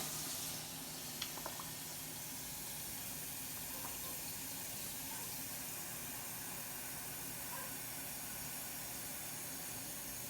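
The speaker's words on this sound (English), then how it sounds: "I want you to fill up the big pot here with water" Steady rushing of tap water pouring into a pot, a continuous even hiss with a few faint clinks near the start.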